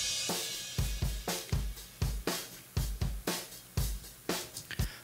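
Room microphones on a drum kit are heavily compressed, giving a punchy, aggressive beat of kick and snare hits with boosted room ambience and cymbal wash that swells between strokes, steady and close.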